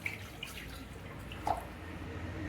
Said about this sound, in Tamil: ஃபர்ஸ்ட் வந்து கொஞ்சமாக தண்ணி ஆட் பண்ணிக்கலாம்.